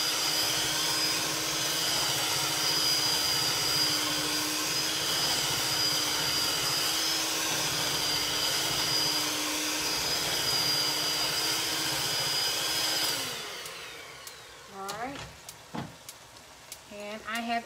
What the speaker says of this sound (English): Let me go ahead and start mixing this.